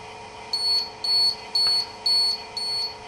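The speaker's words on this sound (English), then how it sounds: "after a preset amount of time, the lost sound alarm will sound." A water rocket's flight computer sounds its lost-rocket alarm, a series of five evenly spaced high electronic beeps, each about a quarter second long, steady and fairly loud over a faint background hum.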